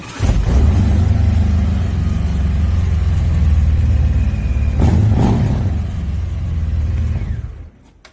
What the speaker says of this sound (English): run and start up your bike